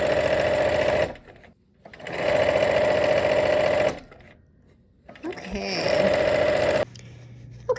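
A sewing machine stitches the last strip of a quilt strip set in three loud, close bursts of rapid whirring, each about two to three seconds long, separated by brief quiet pauses.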